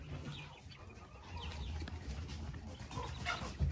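Chickens clucking softly in a straw-bedded enclosure, a steady low murmur of several birds close by with a brief louder bump near the end.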